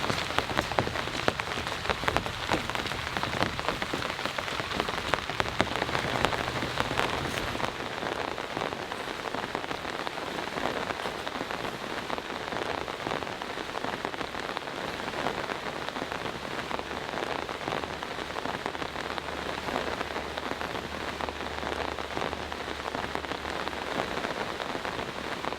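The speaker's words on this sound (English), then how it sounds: "It's still raining out there, but it's not super heavy." Steady rain patters on a tent at night during a thunderstorm, a dense, continuous hiss of drops that stays even and moderately loud throughout, with no voices.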